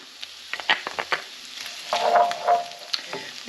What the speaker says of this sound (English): Let that melt down. The garlic will still be cooking once that's melting down as well.